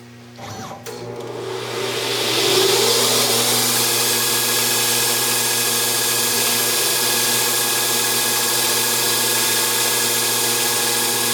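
A CNC lathe spindle spins up to its full 2400 RPM. The motor's whine climbs over the first couple of seconds, then settles into a loud, steady mechanical hum with a sustained high tone that runs alone to the end.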